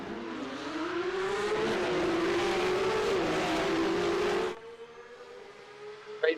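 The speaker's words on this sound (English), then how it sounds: "Great view of all the cars coming off the line" A pack of race cars in a racing video game accelerates off the start line, a loud dense engine roar rising in pitch for several seconds, then cutting to a quieter single engine drone with a brief sharp burst at the end.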